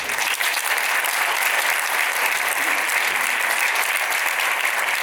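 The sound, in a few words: audience applause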